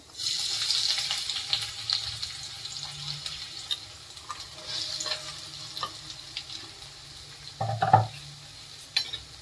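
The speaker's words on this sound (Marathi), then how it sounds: "तेच तेलामध्ये टाकते कांदे" Onions frying in hot oil in a pan during Marathi home cooking of a simple chicken recipe, a steady soft sizzle with scraping stir strokes and a brief louder clatter near the end, no talk.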